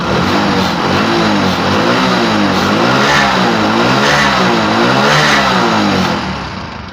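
A small engine is held at high revs during an ignition coil spark test, a loud, close, sustained revving drone with a wavering pitch that rises and falls before tailing off at the end.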